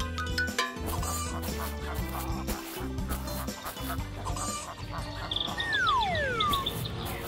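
Hens cluck and chatter close by over a busy music backdrop, with a sliding whistle-like tone near the end.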